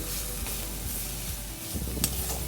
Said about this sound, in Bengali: মিডিয়াম আঁচে প্রায় 1 মিনিট ধরে শাকটাকে ভালো করে নেড়ে মিশিয়ে দিলাম খুব সুন্দরভাবে, এবং জলটা পুরো টেনে গেল।